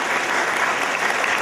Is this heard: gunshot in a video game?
no